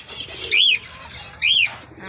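Domestic pigeons kept as pets give two rising-and-falling coos, close by and about a second apart, over steady outdoor background noise.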